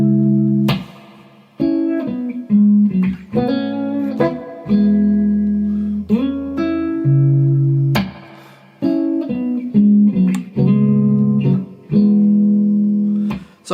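Electric guitar in standard tuning plays the opening line of a song, with clear picked notes, slides and sustained bends in a slow, phrased melody, loud and close with no talking.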